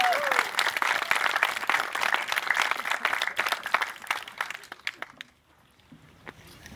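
An audience applauds at an urban farm dedication, steady dense clapping that is fairly distant and thins out near the end, then fades to a few scattered claps, with some crowd noise beneath.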